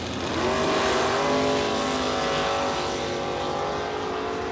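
At a Saskatchewan International Raceway bracket race, a Dodge Charger launches off the drag strip line with a loud, close engine roar that climbs in pitch as it pulls away, and no voices.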